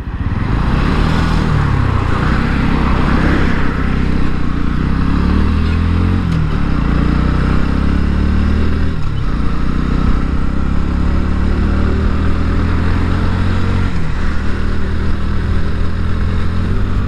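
A red Bajaj Pulsar NS125 motorcycle on the move, its engine holding a loud, steady drone close by for the whole stretch, with wind rush and light rattles.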